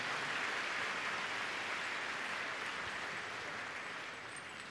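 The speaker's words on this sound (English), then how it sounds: "Big round of applause for our air centers" A crowd at Crufts 2022 claps steadily for a lowland search and rescue dog display, a dense wash of applause that holds level and tapers slightly toward the end.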